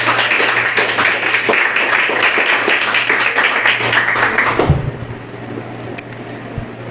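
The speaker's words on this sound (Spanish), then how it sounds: "Demos un aplauso al Señor," A church congregation claps together in a sustained round of applause that fills the room, then stops abruptly, leaving a quieter space with a few faint knocks.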